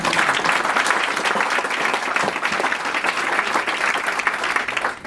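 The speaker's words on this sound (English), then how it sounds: "So how about another round of applause for that?" An audience at an Alaska Treaty of Cession sesquicentennial event applauds loudly and continuously, a thick wash of many hands clapping at even strength throughout.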